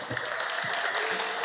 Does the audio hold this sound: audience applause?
yes